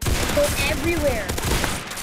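Rapid gunfire from a gun in the video game Rush Point, dense bursts of shots filling the moment loud and close, with a voice talking over part of it.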